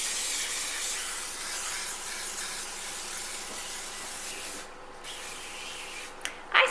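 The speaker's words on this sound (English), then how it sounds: "I'm going to do that by using my canola oil spray." Canola oil cooking spray coats a cake pan with a steady, close hiss lasting about four and a half seconds, then stops briefly before a few short spurts at the end.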